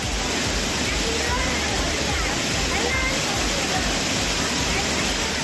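Waterfall in Tamil Nadu running heavier after renewed rain, a steady loud broadband roar of rushing water that fills the whole clip without pause.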